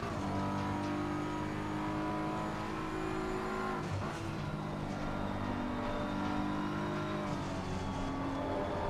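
A race car engine drones steadily at Silverstone in a racing video game, its harmonic whine holding a continuous loud pitch with slight rises and falls throughout.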